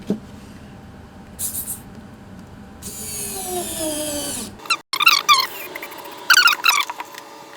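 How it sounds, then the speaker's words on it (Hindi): A screwdriver drives L-shaped screws into a home theater center speaker cabinet, with squeaky, grinding bursts in short spurts separated by brief pauses, close and fairly loud, and no voices. "अब स्क्रूज के थ्रू हमें उनको टाइट कर देना"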